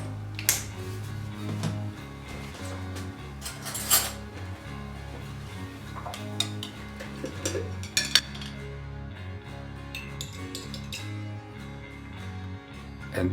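A spoon stirs a sauce of red wine vinegar with yellow and Dijon mustards in a dish, giving off irregular light clinks and scrapes against the dish, close by, with a few louder taps.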